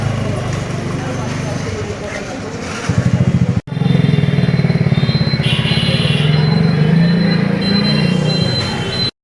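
A custom-built motorcycle engine runs close by with a steady, throbbing drone that cuts out abruptly for a moment and then resumes, while people talk over it.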